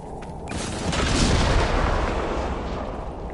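Explosives blowing up in Dragon Age: Inquisition, a loud, sustained rumbling blast that swells and slowly fades over a few seconds, with no talking.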